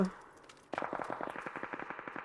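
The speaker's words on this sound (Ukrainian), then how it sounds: "Там, там щось постріли." Automatic gunfire in the PUBG battle royale game opens with a sudden burst and continues as a rapid, regular string of shots, fairly close and clear, following a brief quiet moment.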